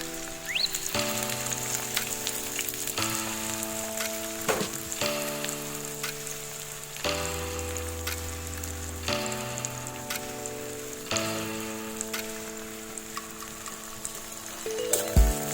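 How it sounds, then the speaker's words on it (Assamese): Onions and four red chilies fry in hot oil, a steady loud sizzle and crackle running throughout with a sustained musical tone over it, no talk. "এতিয়া তেলখিনি গৰম হৈছে, গৰম তেলত মই ইয়াত পিঁয়াজ দি দিছোঁ"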